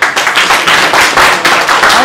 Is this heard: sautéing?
no